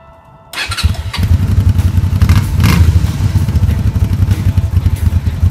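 Honda V-twin Magna motorcycle with a worn stock muffler starts up and settles into a loud, close, lumpy idle with a throbbing rhythm, with no talk.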